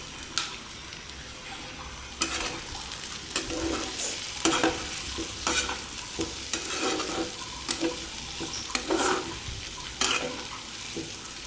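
Ground cumin and coriander spices fry in hot oil while a spoon or spatula stirs them, a steady sizzle broken by about a dozen sharp scraping strokes against the pan.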